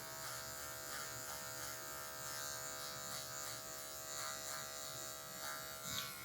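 An electric hair clipper buzzes steadily and close while its tip lightens the darker areas of a mid fade, the tone shifting slightly as the blade moves across the hair, with no talking.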